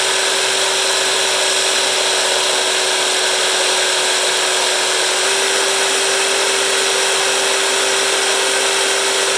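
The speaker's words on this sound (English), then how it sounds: "I'm going to bevel the edge of each pipe and bevel each washer so there's a little V channel that the weld can go into all the way around." A Dremel rotary tool bevels the edges of metal pipes and washers, cutting V channels for welding on a Subaru EZ30R flat-six swap into a Porsche engine cradle. It gives one loud, steady high whine with no talking.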